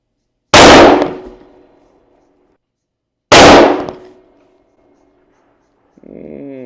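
Two sharp, loud rifle shots from a .35 Whelen Ruger Hawkeye African fired without a muzzle brake or suppressor, spaced about three seconds apart, each with a short decaying echo, followed by a brief mechanical sound at the end.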